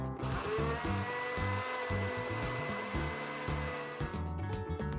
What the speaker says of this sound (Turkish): Mikserle biraz kremayı çırpalım.